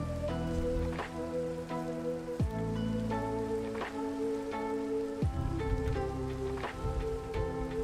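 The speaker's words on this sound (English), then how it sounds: "Ooh, it's a thunderstorm." Steady rain falls during a Minecraft thunderstorm, a constant soft patter mixed beneath game music with plucked tones and occasional swells, no voices.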